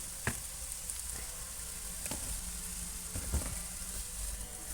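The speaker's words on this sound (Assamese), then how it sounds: "সেয়া মই হালধি গুড়িখিনি দি পেলাই অকণমান সময় ভাজি লৈছোঁ।" Turmeric powder frying in a pan, a faint steady sizzle with occasional sharp clicks and stirring scrapes, quiet and without talk.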